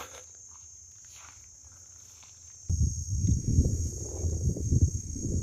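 Cicadas in the Little Karoo keep up a continuous high, thin whine, with flies buzzing among them. Midway a louder, low rustling rumble joins in close by.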